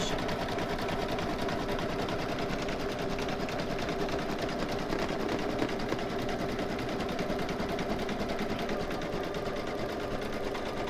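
An embroidery machine stitching a stuffed toy runs steadily, a close, fast, even mechanical whir and needle rattle that continues without pause.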